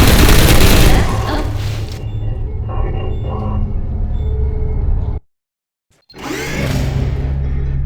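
Booming explosions and rattling gunfire in a Portal mod's live fire course for military aircraft, loud and dense with a rumbling low end, cutting to silence briefly before another heavy burst.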